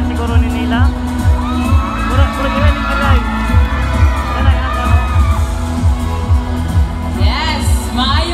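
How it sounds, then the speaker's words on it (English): A large crowd at a town fiesta beauty pageant cheers and claps steadily throughout, with whoops and shouts rising over the continuous roar, fairly loud and close. "Round of applause, please"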